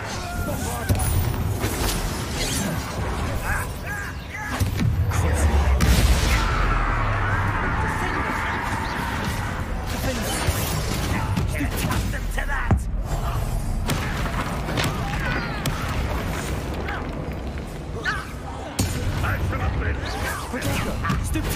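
Spell explosions and booming impacts from combat in the video game Hogwarts Legacy, loud and repeated over busy game effects, with a voice calling out spell names throughout.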